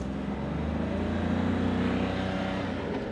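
A Mahindra Bolero Neo spins its wheels while stuck in a shallow off-road pit with the MLD engaged, giving a steady, loud engine drone and continuous rumble with no pauses.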